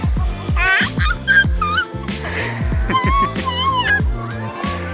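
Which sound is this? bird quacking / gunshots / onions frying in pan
bird quacking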